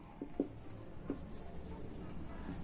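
Chalk or marker taps and short scratching strokes on a board during a basic English grammar lesson, a few distinct close ticks in the first second followed by quieter scraping over low room noise.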